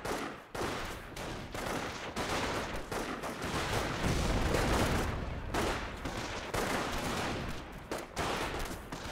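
Sustained gunfire from the World War II strategy game Company of Heroes, dense overlapping bursts and volleys rattling continuously for the whole stretch, loud and close with no talk over it.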